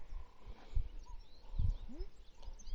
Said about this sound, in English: She's one of our best horseback archery horses.